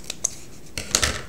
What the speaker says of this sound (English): I'm just going to take my scissors and trim that off even to match